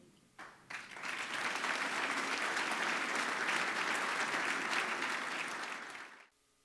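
Sustained applause from a dinner audience at a military fundraising event, rising quickly after a brief pause, holding steady for several seconds, then cutting off near the end.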